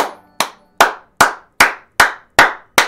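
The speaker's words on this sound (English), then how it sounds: "Clap your hands to pay respects to Pele." Hands clap eight times in a slow, even rhythm, each clap sharp and loud, close by and alone, with a short decay between the evenly spaced strikes.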